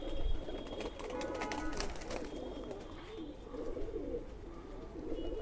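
Khaki Chua pigeons, an Indian breed, cooing in a steady low murmur with soft overlapping calls and faint background noise throughout.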